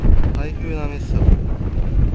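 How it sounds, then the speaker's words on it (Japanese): Strong typhoon wind buffets the microphone on a golf course, a loud continuous roar and rumble with gusting swells throughout. "台風なめっすよ。"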